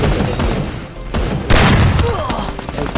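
Gunfire from a shotgun in the Free Fire battle royale game, with a burst of loud blasts around the midpoint followed by further scattered shots against a busy game backdrop.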